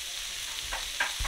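Two tablespoons of butter hit a hot pot while cooking rice for a steak fajita dinner, giving a quiet, steady sizzle with a few short bursts of stirring near the end.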